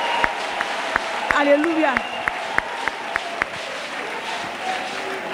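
A church congregation clapping in a quick steady rhythm in praise of Jesus Christ, with voices calling out and speaking over the claps.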